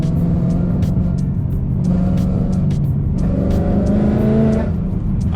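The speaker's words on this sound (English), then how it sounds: "You can hear the exhaust kind of escaping." Straight-piped Ford Mustang GT V8 exhaust leaking from the pipes, a loud continuous idle rumble heard close up, with faint metallic ticking over it throughout and no voices.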